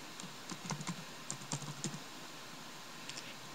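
Fingers type a username on a computer keyboard, a short run of soft, irregular key clicks heard close and quiet over faint room hiss, then a brief pause before a couple more taps.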